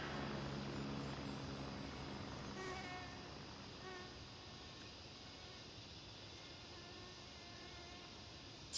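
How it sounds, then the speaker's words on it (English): A helicopter flies by in the military shooter game Gray Zone Warfare, a steady droning rotor and engine hum that stays fairly loud and even throughout, with no talking. "This helicopter just flew by."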